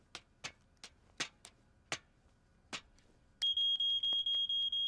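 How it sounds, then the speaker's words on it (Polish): Smoke alarm being tested in a Polish-dubbed Fireman Sam cartoon: several sharp ticks and clicks, then a loud, piercing, pulsing electronic beep that repeats steadily to the end, with no talk. "Teraz przetestujemy alarm dymowy."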